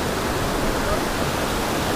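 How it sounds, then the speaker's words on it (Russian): Water rushes through pipes laid at a Thai waterfall, a loud, continuous, broadband roar with no break or voice. "Кое-как трубы бросают, да, и по ним вода фигачит."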